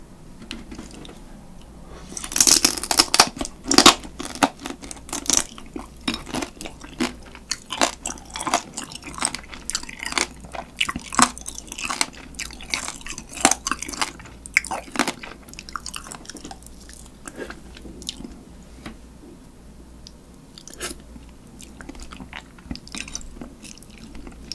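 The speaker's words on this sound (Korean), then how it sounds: "밥 없이 그냥 몸통을 먹어보겠습니다." Spicy marinated crab (yangnyeom-gejang) body eaten shell and all, giving close, loud crunching bites and wet chewing in an irregular rhythm with no talk.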